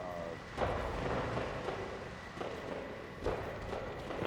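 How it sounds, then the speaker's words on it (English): Fireworks go off in the video game No Man's Sky during a nighttime block party, a handful of soft, muffled booms spaced about a second apart over a faint steady background. "Fireworks."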